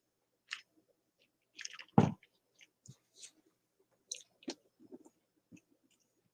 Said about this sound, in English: Chewing my food.